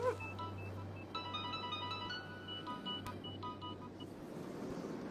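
A phone ringtone plays in a quiet indoor room, a repeating electronic melody of short bright tones over a low steady hum, fairly faint and with no talking.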